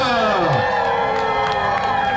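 A dense crowd at a dog show at the California State Fair cheers, whoops and hollers on cue, a loud, sustained roar of mixed voices that holds steady for the whole stretch, with some shrill shouts rising above it.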